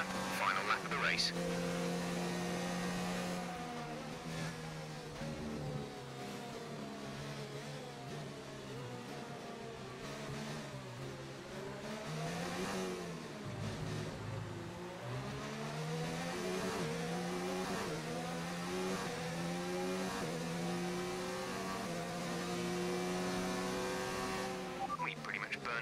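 A Formula 1 race car engine in a racing video game revs continuously, rising and falling in pitch through repeated gear changes and throttle lifts on a final lap, loud and close throughout.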